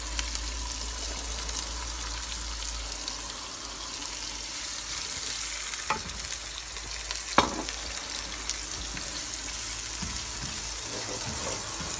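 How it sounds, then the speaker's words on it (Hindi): Chopped onion fries with cumin seeds in hot oil in a pan, a steady close sizzle with a few sharp stirring clicks partway through and no talking. "इस नाल ही पा लैने प्याज।"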